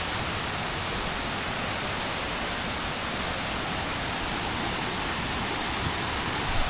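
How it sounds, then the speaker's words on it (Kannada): Steady broadband roar of a waterfall just below an unbridged, unmapped spot, loud and continuous for the whole stretch with no talk over it. "ಸೀದಾ ಕೆಳಗೆ ಇಲ್ಲೇ ಫಾಲ್ಸ್ ಐತೆ ನೋಡ್ರಿ ಗೈಸ್"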